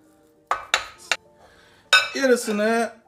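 Clinks and knocks of a bowl being handled as spiced minced meat for kadınbudu köfte is set into it, a few sharp clatters close by, then a brief tonal, voice-like sound near the end.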